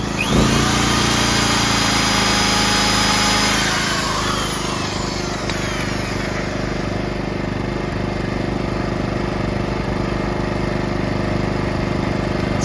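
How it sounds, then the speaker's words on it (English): A PowerSmart portable generator engine runs steadily and loudly throughout, a constant mechanical drone with a high whine, close up and without pauses. "the engine goes with what it needs."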